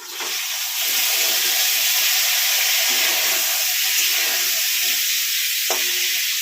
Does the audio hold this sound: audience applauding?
no